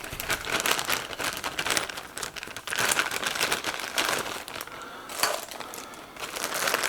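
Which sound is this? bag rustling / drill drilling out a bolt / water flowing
bag rustling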